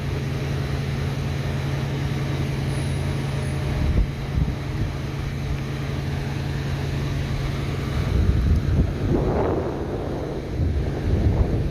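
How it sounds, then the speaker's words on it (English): A sudden gust of wind buffets an outdoor microphone on a walk through northern meadows, a loud steady rumbling roar that swells stronger toward the end, with no voices. "Oh, the wind all of a sudden, man."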